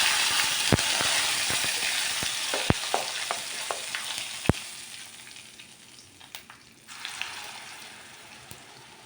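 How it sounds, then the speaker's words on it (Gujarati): Sesame seeds, asafoetida and curry leaves sizzle in hot oil as a tempering for rava handvo. The sizzle is loud and steady, with sharp crackles and pops, and it softens after several seconds. "પછી નાખશું આપણે તલ. પછી નાખશું હિંગ. પછી નાખશું લીમડાના પાન."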